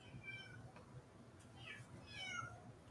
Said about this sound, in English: if you're hearing my cat, it's mine.